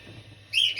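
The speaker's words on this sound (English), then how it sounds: "The birds." A brief high bird chirp or tweet rises sharply near the end, clear and fairly close over a quiet background hum.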